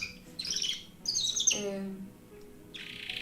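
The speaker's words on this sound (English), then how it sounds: "there's so many birds in the background because I have some canary birds that are past their bedtime" Pet canaries chirp in the background indoors, bright rapid twittering trills coming in bursts of roughly half a second, moderately loud, with a low hum and brief tonal sounds between them.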